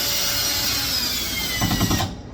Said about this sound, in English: can take your drill or your screwdriver, then just attach it